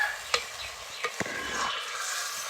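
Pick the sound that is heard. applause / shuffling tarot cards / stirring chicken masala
stirring chicken masala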